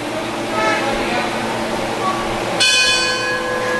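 A wrestling ring bell clangs loudly at a televised title match in Philadelphia, a bright ringing burst cutting in near the end over steady crowd noise and an announcer talking.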